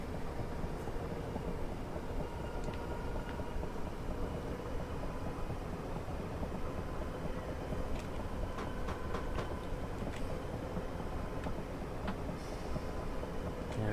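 A Class 320 train in Train Simulator 2021 on a suburban Glasgow Northwest line, running at around 60, gives a steady, dense rumble of wheels and motor with faint tonal whines and brief clicks on top. No one speaks over it.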